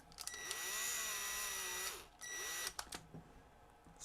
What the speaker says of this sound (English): we'll just use the impact then, it'll be fine